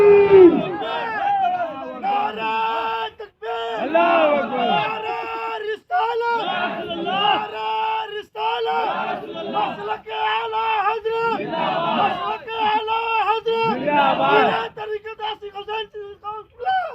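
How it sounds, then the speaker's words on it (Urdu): Crowd at an Islamic religious gathering (jalsa) in Siliguri chanting slogans in rhythmic bursts, voices rising and falling in waves with short pauses between call-and-response phrases, loud and close. "جو نعرے لگا رہے ہو کہ نبی کی شان زندہ باد"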